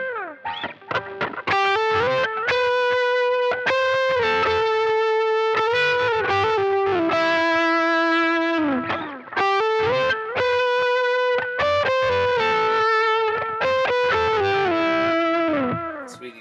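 Electric guitar lead tone through a compressor, Tube Screamer and the amp's dirty channel, sustained singing single-note lines with bends and slides, loud and close, playing continuously with one short pause and no talk.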